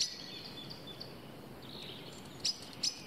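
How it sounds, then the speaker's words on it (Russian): Birds chirp and sing in short high-pitched phrases over a quiet outdoor background, with a few brighter, louder calls near the end. "птички поют"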